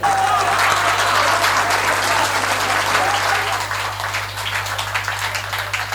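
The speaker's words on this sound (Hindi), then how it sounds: "जोरदार तालियां बजा करके भाई सबरस मुरसानी जी को आमंत्रित करें" Loud, sustained applause from a crowd at a Jat comedy show welcoming comedian Sabras Mursani, many hands clapping densely over a steady low hum, easing slightly toward the end.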